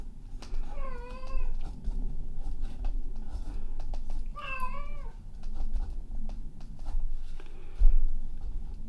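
A cat meows twice, a few seconds apart, each call rising and falling, with quiet background noise in between.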